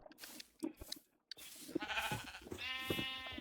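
Sheep bleating in the video game Minecraft, a few short nasal bleats close by, separated by brief gaps and a moment of near silence, with faint game sounds around them.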